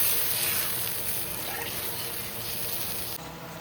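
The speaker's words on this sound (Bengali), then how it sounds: "নাড়াচাড়া দিয়ে একটু জল ঢেলে দেবো।" Water poured into a cooking pan of greens with turmeric, a steady soft gushing stream that cuts off abruptly near the end.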